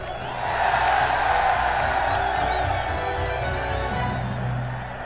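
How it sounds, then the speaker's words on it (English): A large crowd cheers the return of King Charles II with a sustained roar of many voices, loud and dense, that holds steady and then eases off toward the end. "Now they were cheering the return of the Stuarts."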